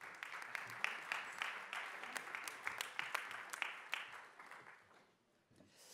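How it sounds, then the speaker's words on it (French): An audience at an opening ceremony applauds, a steady patter of many hands heard faintly from a distance, thinning and fading toward the end. "Merci de les applaudir."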